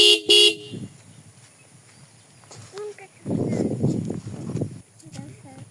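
A short, loud horn beep from a Bajaj Pulsar 150 single-disc ABS motorcycle sounds once at the start, followed by quieter engine and handling noises with some talking.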